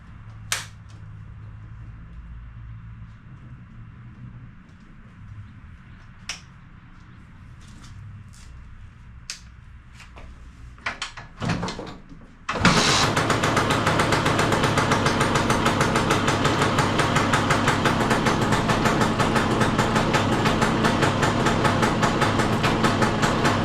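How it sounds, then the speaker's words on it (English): Serveta Jet 200 scooter cold-started after a week unused, a few clicks and knocks of the kick starter, then the engine catching on the first kick and idling loud and steady close by. "so let's see how she does in a cold start."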